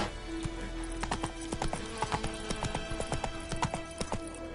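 Roach, the horse in The Witcher 3, gallops with a steady stream of clip-clop hoofbeats, close and fairly loud, with a brief whinny near the start.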